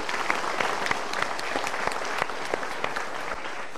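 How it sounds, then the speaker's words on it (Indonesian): Motivational talk-show audience giving two guests a round of applause, a full, continuous clatter of many hands close and even throughout with a few louder individual claps. "Untuk mereka berdua kita berikan tepuk tangan dulu"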